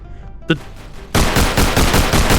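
Gunfire in a Roblox VR gun game: a single sharp shot is followed by a loud, dense burst of rapid automatic fire that continues steadily to the end.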